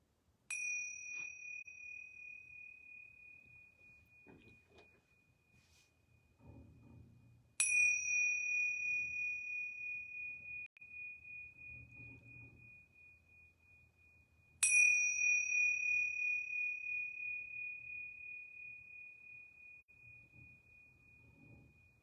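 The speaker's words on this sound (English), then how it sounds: "And I'm going to ring these yoga bells 3 times." Yoga bells ring three times, each a clear bright strike that hangs and fades slowly in a quiet room, spaced several seconds apart, with faint soft sounds between strikes.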